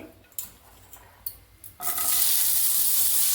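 Carrots are tipped into a pan of frying spices for sabudana pulao: a few light clinks and stirs, then a sudden, loud, sustained sizzle as they hit the hot oil.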